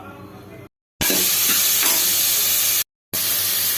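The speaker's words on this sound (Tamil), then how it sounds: "குக்கரை வச்சு எண்ணெய் சேர்த்துருக்கேன். காயெல்லாம் சேர்த்து வதக்கிக்கலாம்." Vegetables sizzle and hiss loudly in hot oil inside a pressure cooker while being stirred for sambar, a steady frying roar broken by two short silent gaps.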